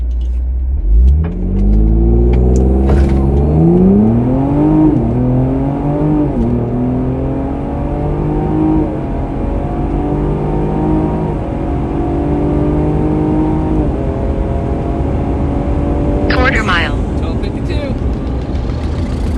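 A bagged, tuned Ford Explorer ST engine revs up hard and accelerates on a run, pitch climbing through gear changes, then holds a loud steady roar; a voice is heard briefly.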